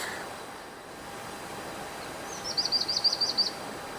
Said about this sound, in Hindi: चिड़ियाँ ज़ोर ज़ोर से चहचहा रही हैं,